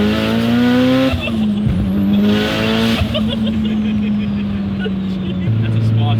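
A tuned SR20 engine car runs hard nearby, a loud buzzing engine tone holding high then dropping as revs shift, with a brief squeal-like sweep and people talking over it.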